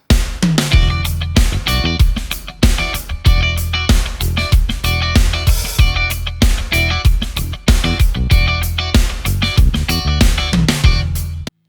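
Loud, gritty electric guitar chops in a tight, repeating two-bar syncopated funk pattern, punchy and continuous.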